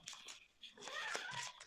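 A domestic cat meows and grumbles indoors, a couple of faint, drawn-out complaining cries close by, with a voice speaking around them.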